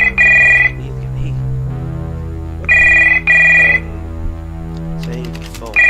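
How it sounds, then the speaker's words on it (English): A door phone rings in the horror video game Stories Untold, loud electronic ringing in repeated bursts over a low droning hum, with each ring pulsing twice before a pause. "Door phone starts ringing."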